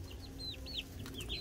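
Chickens sound close by as a hen clucks beside her chicks, with high chirps and short calls rising and falling over a low rural background hum.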